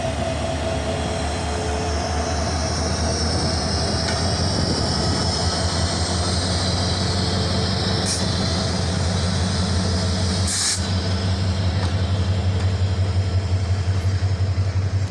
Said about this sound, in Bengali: মন পছন্দের ট্রেন যদি সামনের দিক থেকে যায় কেমনটা লাগে